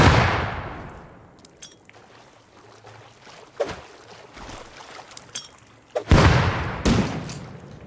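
Gunfire and a grenade blast during a raid in the video game Rust: a few sharp shots and crisp pops spread over quiet stretches, then a heavier burst of reports near the end, close and punchy.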